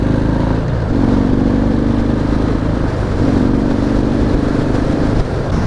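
A loud, steady 2019 Harley-Davidson FXDR engine drones and pulls under acceleration, with rushing wind noise throughout and a shift in pitch partway.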